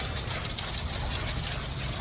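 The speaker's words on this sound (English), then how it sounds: "just a regular water hose is cleaning it up" Steady rushing spray of water from a garden hose cleaning a flood-damaged 2020 Can-Am XMR 850 ATV, continuous and close, with a hissy broadband wash throughout and no talking.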